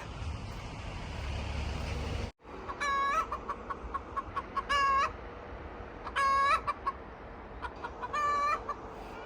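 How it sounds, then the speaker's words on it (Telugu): Several native chickens cluck repeatedly in short bursts in Korea over a constant outdoor background hum, with a rooster's crow rising among the calls. "ఇక్కడ కోళ్ళు ఉన్నాయి నాటుకోళ్ళు"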